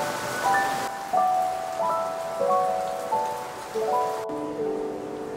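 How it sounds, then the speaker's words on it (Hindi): Steady rain patters and hisses continuously at Sarangkot hill station near Pokhara, Nepal, with soft melodic tones drifting over the downpour. "देखिए बारिश भी हो रही है"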